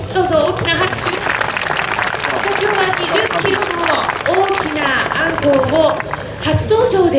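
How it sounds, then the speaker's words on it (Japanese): Audience applause at the end of a street-food show in Japan where a 20 kg anglerfish is cut up, with loud, continuous clapping that carries on under someone talking over it. "どうぞ大きな拍手。"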